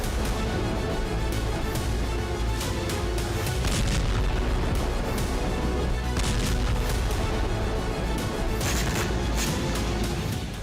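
Strike blasts at the Syzran oil refinery in Samara, Russia, hit by Ukrainian attacks and set ablaze: a dense, continuous barrage of booms and cracking bursts, loud and sustained throughout with no talking.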